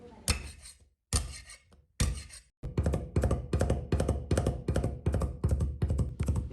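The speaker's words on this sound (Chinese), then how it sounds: "3-4粒大蒜，用刀拍匀剁碎" Three to four garlic cloves smashed with the flat of a knife, then minced: three separate heavy smacks followed by a steady run of about ten quick, even chopping knocks, close and clear with no talk.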